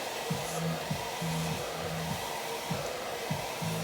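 A hair dryer blows close by, drying hair at the crown for a volume blow-dry, a constant airy whoosh beneath repeated low humming tones as the dryer moves, with no speech.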